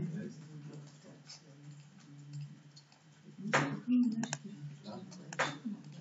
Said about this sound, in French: Il faut juste écrire ABC avec le clavier dedans.